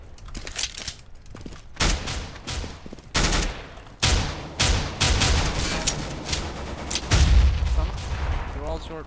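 Gunfire in Counter-Strike: Global Offensive: repeated loud bursts of shots in clusters across the clip, with sharp cracks and heavier booming reports.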